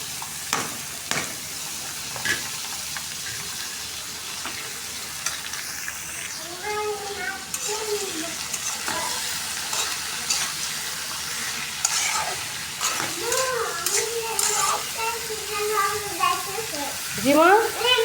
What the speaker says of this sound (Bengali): ভাজিটা বসাই দিতেছি।